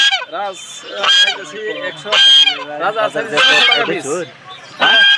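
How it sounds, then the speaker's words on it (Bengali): Goslings and Chinese ducklings at a poultry market give loud, close, repeated honking calls in short bursts, with a voice speaking among them. "রাজহাঁসের বাচ্চা আছে, চীনা হাঁসের বাচ্চা আছে"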